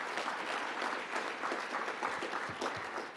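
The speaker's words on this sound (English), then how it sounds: "I think it deserves a louder applause than that. Yes, you can applaud." Conference audience applauds at an international event on loss and damage finance, a steady dense clatter of many hands clapping throughout, fairly loud and continuous with no talk over it.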